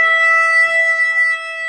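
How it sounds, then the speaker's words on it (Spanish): A shofar blown for a joyful worship call gives a single sustained, bright, horn-like blast with strong harmonics, steady and fairly loud, wavering slightly and easing off toward the end. "tenemos este shofar de aquí"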